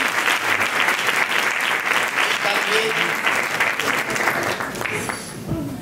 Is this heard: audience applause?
yes